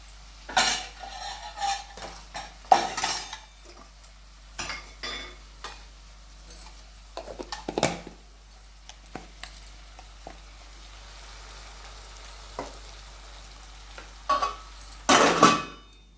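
Garden-fresh mixed vegetables cooking in a pan in a home kitchen, with intermittent scraping and clinking of a utensil against metal in short bursts, fairly close and otherwise quiet.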